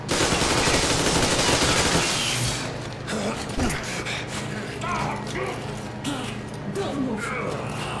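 A dense burst of gunfire from Metro Exodus hits the player, loud and sustained for the first couple of seconds, then giving way to scattered thuds, clatter and a low hum of game ambience.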